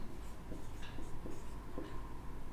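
Faint chalk or marker strokes on a board during a Class 10 trigonometry lesson, a few short scratchy writing bursts over a steady low room hum, with no talking.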